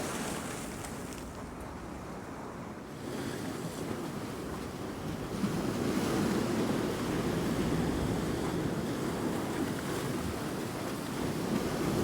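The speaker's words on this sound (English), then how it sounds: "all the noises in the rocks and stuff from the water and that make some weird noises" Stormy sea waves wash and churn over rocks on the beach at Hopton on Sea, Great Yarmouth, a steady loud roar of surf with heavy wind buffeting the microphone throughout, no voices.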